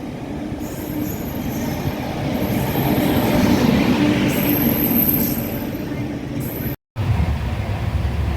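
A train pulls into a station at close range, a steady heavy roll with wheel noise and a high metallic squeal building as it slows.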